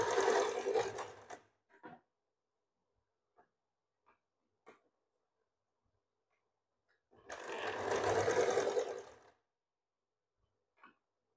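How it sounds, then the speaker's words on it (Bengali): A sewing machine stitches a hook strip onto a blouse in two separate runs, each a dense whirring burst lasting a second or two. Quiet gaps between them hold a few faint clicks and small handling noises. "হুকের পট্টিটাকে প্রথমত হাতে এখানে মেশিনে সেলাই করে নিচ্ছি"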